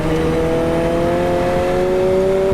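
A 2021 McLaren 765LT engine revving steadily and loudly through its titanium exhaust, a sustained throaty drone with rising tones.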